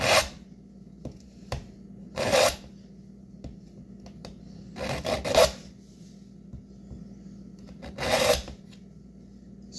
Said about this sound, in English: Yeah, I'm gonna sharpen a knife.